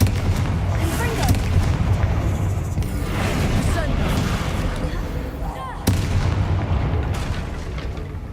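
A Confringo blast in Hogwarts Legacy combat: a sharp explosive crack amid rumbling booms and battle noise, with voices speaking over the fight.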